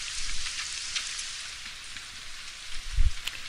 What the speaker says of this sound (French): Pourquoi le son de la pluie est aussi fort ici?